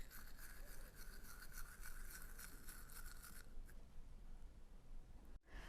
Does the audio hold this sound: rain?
no